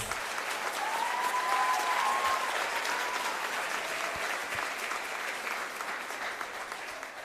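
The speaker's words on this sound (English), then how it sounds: "Let's give her a round of applause." Audience applause at a high school college signing ceremony for Jayda Hough, a steady wash of many hands clapping at moderate volume that holds for several seconds and eases slightly toward the end.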